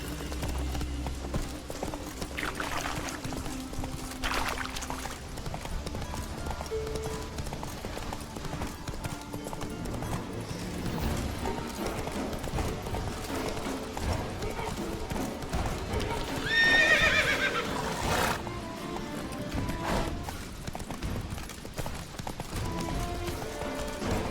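Roach, the horse in The Witcher 3, gallops with a steady rhythmic clip-clop of hooves and lets out a neigh midway, under background music and occasional speech.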